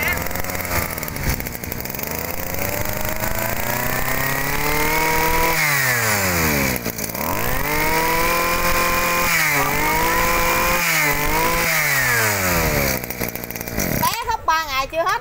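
A Robin 22cc Japanese brush cutter engine runs steadily up close, its pitch rising and falling as the throttle is worked, ending with a short burst of louder revving.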